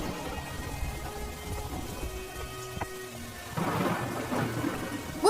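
Heavy rain falls steadily on surfaces with a low thunder rumble, swelling into a louder burst of rain and thunder toward the end, with no voices.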